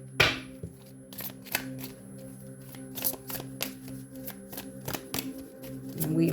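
A deck of cards is shuffled by hand for a tarot reading, with a series of crisp riffling bursts and soft thumps in an uneven rhythm, close and moderately loud, with no talking.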